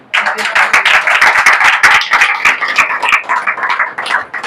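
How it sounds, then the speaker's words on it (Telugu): A church congregation claps their hands together in loud, rapid, slightly uneven bursts that carry steadily for several seconds before trailing off. "ఇప్పుడు చప్పట్లు కొట్టండి"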